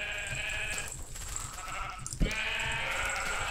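Sheep in Minecraft bleat in a drawn-out, wavering way over a continuous noisy background, with a brief thump partway through; no one speaks.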